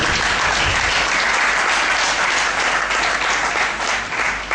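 A church congregation at a French-language Sunday service claps loudly and continuously, a dense, sustained wash of applause with no voices rising above it.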